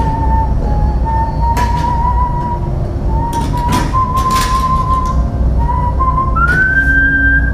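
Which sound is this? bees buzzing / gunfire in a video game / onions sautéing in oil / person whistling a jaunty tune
person whistling a jaunty tune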